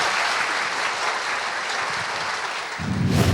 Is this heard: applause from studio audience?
yes